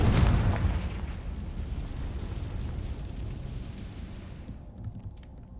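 A Confringo spell blast in Hogwarts Legacy, a loud booming explosion that hits at once and then rumbles and decays for several seconds before fading to near silence.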